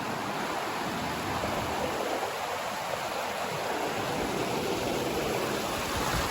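A river in tiger territory at Jim Corbett National Park rushes with a steady broadband hiss of flowing water. The sound is even and unbroken throughout, moderately loud and close, with no voices.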